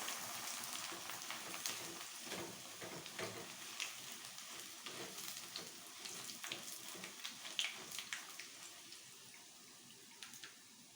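Corn chips fry in hot oil through a strainer, making a continuous close sizzle with frequent bubbling pops and crackles, and no voices.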